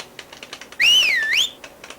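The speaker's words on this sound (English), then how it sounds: "this is where I would try and catch up with the whistling note, not Big Eater." From Harvest Moon: Magical Melody comes a clear whistling note, a single bright tone that rises then dips and rises again for about half a second, framed by light tapping clicks before and after.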